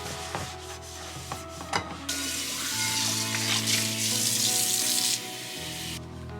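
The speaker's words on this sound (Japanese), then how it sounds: "食器は食洗機に入れて食べたものを洗っていきます。" Dishes go into a dishwasher in a home kitchen: a few close clinks and rubbing knocks, then a steady rushing, hissing wash of water-like noise that stops near the end.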